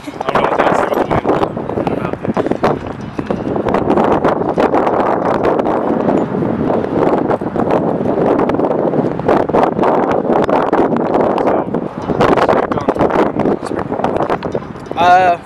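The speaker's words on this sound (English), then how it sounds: "it's nice and windy" Gusty wind buffets the microphone in a steady rumbling roar, with people talking underneath throughout.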